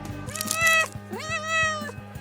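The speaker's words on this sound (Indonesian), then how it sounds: "Tunggu Pak Kucing, jangan makan ikan busuk." A cat meows twice up close, two drawn-out, rising-and-falling calls about half a second apart, over a low steady hum and faint ticking from a kitchen where fish is being prepared.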